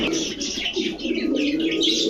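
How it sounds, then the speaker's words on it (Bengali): An Indian Kaldom pigeon coos close by, a continuous throaty rolling murmur with soft chirpy overtones and no break throughout. "ইন্ডিয়ান কালদম কবুতর ভাই ইন্ডিয়ান কালদম কবুতর"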